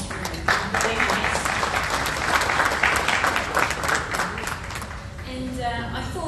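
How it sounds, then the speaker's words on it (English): An audience at an International Women's Day business event claps together in a room, a loud, dense burst that swells and then fades slowly toward the end, with speech over the tail. "And a clap to the men in this room."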